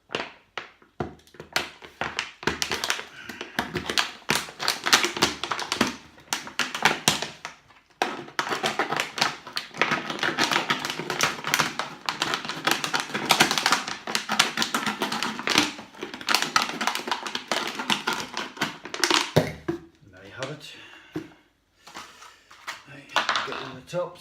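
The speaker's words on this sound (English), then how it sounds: "What I'm going to do is just cut the tops off these bottles." Plastic bottles being cut, their tops sliced off with dense crackling, snipping and crinkling close by for most of the stretch before it thins to a few scattered taps near the end.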